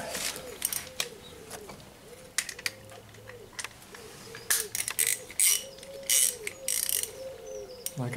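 A ratchet tool clicks rapidly in repeated short bursts close by, turning the plastic oil filter housing on an Opel Corsa D 1.3 CDTI, each run of ticks stopping and restarting, with faint chirping in the background.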